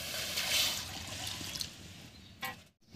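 Water pours into a wok of potatoes on a clay stove, a close, continuous splashing rush that carries on for a few seconds and then cuts off abruptly.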